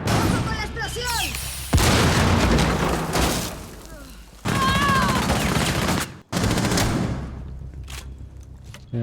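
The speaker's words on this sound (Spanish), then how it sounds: "¡Ojo con la explosión!" Gunfire and explosions from a Rainbow Six match: loud bursts of automatic fire and booming blasts come in dense waves, broken by brief near-silent gaps, with voices heard among the shots.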